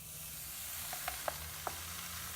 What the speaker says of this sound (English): we're going to pour the liquid nitrogen inside here to start a project